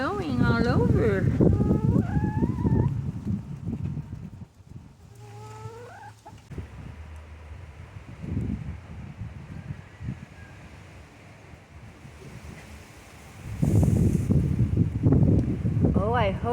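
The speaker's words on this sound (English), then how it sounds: "It's very windy." Strong wind buffets the microphone around backyard chickens, a rumbling gusty roar that rises and falls, with someone talking and chickens clucking and squawking over it.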